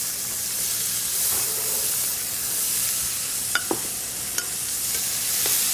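Leeks, celery and carrot sizzle in a pan with a steady broad hiss, broken by a few light clinks and stirring taps; no voices.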